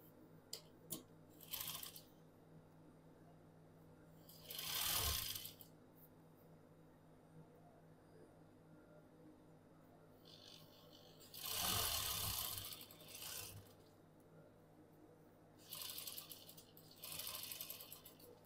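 A sewing machine stitches the lining of a frock in short bursts, three quick runs spaced apart, with quiet handling and faint rustling of fabric in between.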